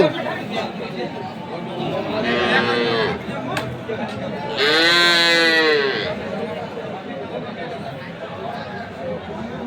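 Dairy cows at the Khochabari cattle market in Thakurgaon give two drawn-out, nearby lowing calls amid a busy crowd chattering in the background.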